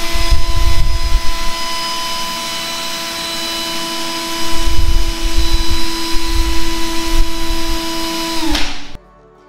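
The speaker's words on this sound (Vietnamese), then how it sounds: "Bây giờ thì mình sẽ test tốc độ vòng quay của máy khoan pin Bosch." A Bosch cordless drill spins at speed during a rotation speed test, a loud steady high whine held for several seconds before it cuts off abruptly, with low handling bumps underneath.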